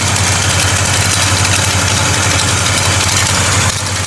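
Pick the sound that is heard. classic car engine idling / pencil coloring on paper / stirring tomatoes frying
classic car engine idling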